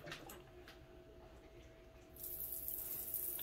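A hand-operated portable bidet releases water that hisses in a faint, steady spray, getting louder as it opens fully near the end.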